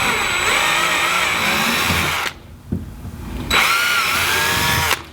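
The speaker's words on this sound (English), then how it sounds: "using our 13/32 drill bit, 13/64 drill bit, we'll go ahead and drill these holes out" Power drill with a 13/64 bit boring holes in a kayak hull: two sustained high whining bursts of drilling, separated by a short pause, close and loud with no talk.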